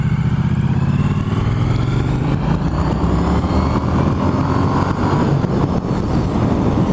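A 2016 Triumph Street Twin parallel-twin with a 270-degree firing order and standard exhaust gives a steady, loud, low thrumming drone while riding, with wind rush on top and no talk.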